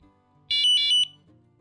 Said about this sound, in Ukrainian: Легенько торкаюся і він пікає.